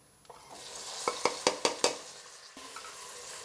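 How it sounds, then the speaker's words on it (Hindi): 500 grams of mutton going into a pot of hot oil with red chilli for bhuna biryani: a soft sizzle broken by five quick, sharp clacks of a spoon against the pot, then a final knock. "अब इसमें फटाफट से मटन डाल देते हैं"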